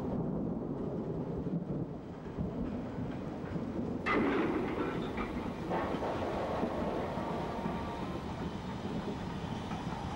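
Black 5 steam locomotive, later named RAF Biggin Hill, running on the Met: a steady, continuous rumble of a passing train with rolling wheel and rail noise, a brighter surge of clatter about midway, no voices.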